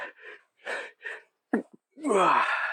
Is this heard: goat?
no